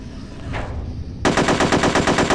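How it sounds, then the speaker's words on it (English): An AK rifle fires in the video game Hitman, a rapid automatic burst of about ten loud, evenly spaced shots after a short quieter lead-in, with no talking. "Oh, I gotta do some target practice, eh? Bang! Bang! Bang!"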